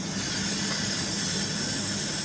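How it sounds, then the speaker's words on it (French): A pot of spider crab soup simmering gently over a fire gives off a steady, loud, unbroken hiss with a faint bubbling texture underneath, continuous throughout with no talking. "On va laisser mijoter."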